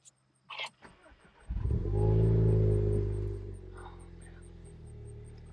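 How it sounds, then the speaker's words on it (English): A Volkswagen Golf R engine cranks and catches after a short click, settling into a steady, loud idle with a low rumble that eases slightly over several seconds, close by. "So let's get the Golf R start here."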